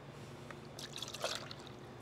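Black chassis paint for a 1932 Ford rebuild is poured from a can, making a soft, close trickle and dribble with a few brief splashy bursts over a quiet background.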